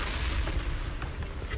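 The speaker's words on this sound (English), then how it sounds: "explosion erupts, followed by tremors in the ground" A deep explosion rumbles through the Zenless Zone Zero game, a dense, continuous boom that rolls on without a break, with no voices.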